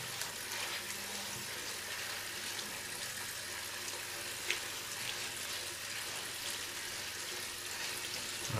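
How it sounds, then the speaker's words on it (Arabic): A cantaloupe rubbed by hand under running tap water in a home kitchen, a steady broadband rush of flowing water with a few faint handling sounds, continuous and close. "كده نغسل الكنتالوبة، نمسكها كده ونبعكها بايدينا كده"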